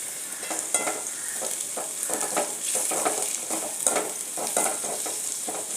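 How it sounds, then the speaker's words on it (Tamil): Onions sizzle steadily in a hot pan while a spatula scrapes and stirs in an even rhythm, with no talking, while cooking egg gravy. "இன்னும் கொஞ்சம் நல்லா வதங்கட்டும் வெங்காயம் வதங்கிடுச்சு"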